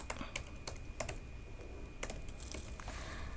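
Rapid clicking keystrokes on a computer keyboard while coding a React and Bootstrap website, irregular bursts of taps heard up close over a steady low room hum.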